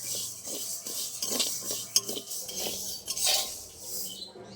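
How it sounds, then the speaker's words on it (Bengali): Rice being dry-roasted for a homemade sweet, stirred in a pan: repeated close scraping and light metallic clinks of a utensil against the pan, with a faint hiss beneath and no talking. "এইভাবে প্রত্যেকটা যেন ভালো করে ভাজা হয় সেরকমভাবে নেড়ে যেতে হবে।"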